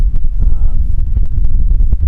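Strong wind on a balcony of the P&O Iona cruise ship off Norway buffets the microphone with a deep, constant rumble, loud and close, with a few faint knocks.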